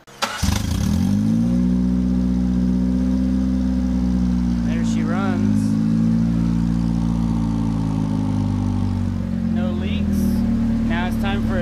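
A turbocharged Honda Civic with an automatic transmission starts up and settles into a loud, steady idle, with a couple of short revs rising and falling partway through, close to the microphone.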